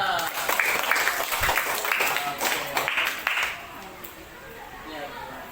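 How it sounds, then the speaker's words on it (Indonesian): Schoolchildren in a classroom clap for a classmate, a burst of fairly close, busy hand-clapping with voices under it that fades out toward the end. "Tepuk tangan buat teman kita."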